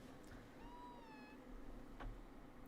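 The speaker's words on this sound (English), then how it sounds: "I heard something meowing" A cat gives a single soft, drawn-out meow indoors, faint and fairly distant, followed by a small knock.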